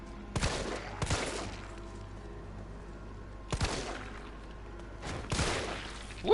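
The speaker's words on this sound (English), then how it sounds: "I love that headshot." Gunfire in the Resident Evil 3 remake, with four separate loud shots in two pairs spaced across a few seconds, each with a short reverberant tail, and no talk over them.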